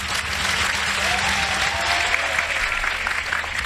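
An audience claps steadily and densely for a few seconds, forming a continuous wash of applause with no voices standing out.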